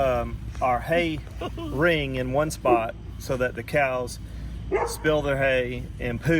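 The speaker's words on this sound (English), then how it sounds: "Sorry about the dog." A dog barks in short bursts on a cattle and vegetable farm, under someone talking about composting cow manure.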